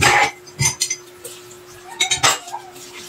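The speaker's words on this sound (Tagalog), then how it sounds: "hugas-hugas muna tayo mga katsi ng ating pinggan. Kinainan at kape." Dishes being washed in a home kitchen: plates and cups knock and clink in several bursts, loud and close, with quiet gaps between and a faint steady hum underneath.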